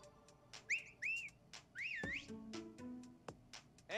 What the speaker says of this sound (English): Let's go for a whistle.